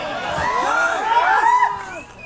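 A large crowd at a protest rally in Jharkhand, a dense murmur of many voices with scattered shouts and rising, overlapping calls close by.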